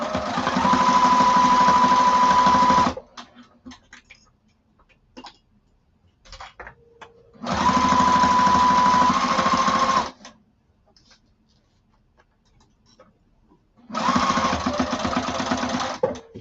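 A sewing machine stitches thin bag lining fabric in three fast, steady bursts of a few seconds each, separated by quiet pauses with faint handling clicks, close and clear.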